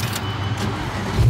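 Loud sports car engine rumbling inside a parking structure, a deep continuous growl that swells slightly toward the end, with no talking.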